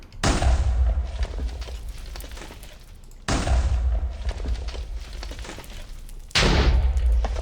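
Timed device in the Minecraft modpack Modern Skyblock 3 sets off three loud, booming explosions about three seconds apart, each a sharp burst trailing into a rumbling decay.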